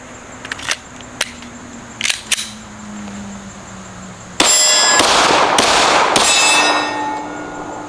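A few sharp cracks, then a dense run of loud, rapid gunshots with ringing metallic clangs, close and unaccompanied by voices.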